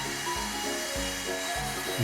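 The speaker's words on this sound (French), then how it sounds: "Et c'est parti avec la scie circulaire." A circular saw cuts wood clamped down for a hanging nightstand build, giving a steady whining drone that dips and recovers in repeated steps as the blade bites through the board, alone and close.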